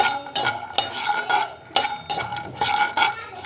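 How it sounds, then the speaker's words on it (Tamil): Walnuts fried in a pan, heard as a spatula scraping and stirring in repeated strokes against the metal over a faint sizzle, close and fairly loud, with no talk. "ஸோ இது வந்து நல்லா வந்து ஃப்ரை ஆகணும்."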